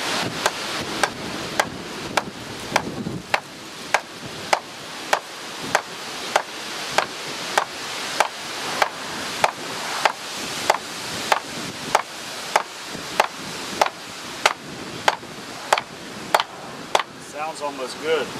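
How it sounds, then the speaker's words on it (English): Steady series of sharp knocks, a mini sledgehammer striking a wood block about once per second during a carrier bearing replacement, close and crisp against a faint background hum. "I've got a little mini sledgehammer. I'm actually just going to hit the top part."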